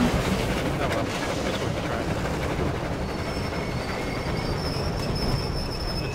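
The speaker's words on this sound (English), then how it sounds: "Try back up the train when you spawn it." A train in the video game Battlefield 1 rumbles steadily and loudly throughout, with rolling wheel noise and a faint high squeal toward the end.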